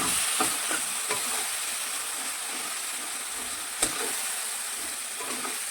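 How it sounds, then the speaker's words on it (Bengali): Katla fish pieces and potatoes stir-frying with cumin and coriander powder and tomato paste in hot oil, a constant hissing sizzle with occasional scraping stirs, close and fairly loud, with no talking. "এবার আমি মশলাটাকে কষাবো"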